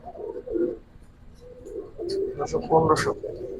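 Giribaz pigeons coo softly in short, low, throaty calls close by, while someone talks over them.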